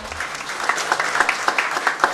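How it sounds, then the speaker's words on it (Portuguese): Applause from a crowd at a public hearing, a steady patter of many hands clapping with a few sharper claps standing out, moderately loud and close. "Vamos aplaudir a secretária."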